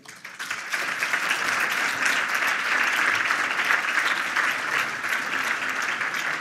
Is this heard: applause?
yes